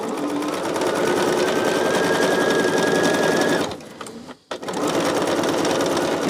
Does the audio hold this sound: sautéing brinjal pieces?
no